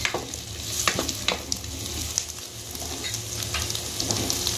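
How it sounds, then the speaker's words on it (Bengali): Green chillies and onions sizzle steadily in a hot pan, with scraping and stirring clatter rising over the frying every so often; no voices. "দুটো কাঁচা লঙ্কা দিয়ে দেবো, দিয়ে নেড়ে নেব।"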